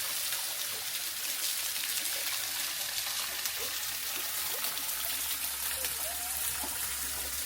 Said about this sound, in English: Just let me wash my hands over here.